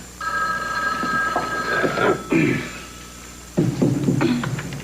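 A telephone rings in a home setting, its electronic tone clear at first and then fading as people begin talking over it.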